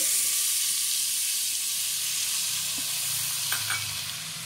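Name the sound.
tomatoes added to frying Punjabi chicken curry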